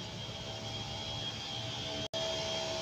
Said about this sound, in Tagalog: May nagagrass cutter dito sa gilid.